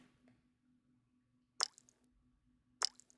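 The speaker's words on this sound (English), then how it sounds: "The splashing sound of flowing, falling blood." Blood flowing and falling in an alley, heard as two sharp wet splashes about a second apart, each with a short dripping tail, over a faint low hum.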